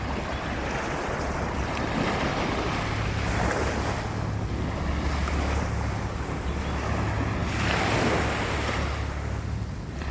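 Steady ocean surf rolls onto the shore at high tide in repeated washing surges along the Ma Wan shoreline, with wind buffeting the microphone throughout.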